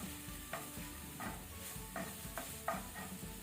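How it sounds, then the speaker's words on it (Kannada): Stuffed-squid masala frying on a low flame, a steady soft sizzle with repeated scraping strokes of a spoon every half second or so, close and fairly quiet, with no talking. "ಈಗ ಇದನ್ನು 1 to 2 ಮಿನಿಟ್ಸ್ ಸ್ವಲ್ಪ ಲೋ ಫ್ಲೇಮ್ ಅಲ್ಲಿ ಫ್ರೈ ಮಾಡ್ಕೊಳ್ಳಿ"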